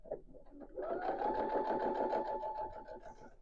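A sewing machine back-stitches at close range, giving a short, quick run of rhythmic mechanical whirring about three seconds long with a steady tone through it.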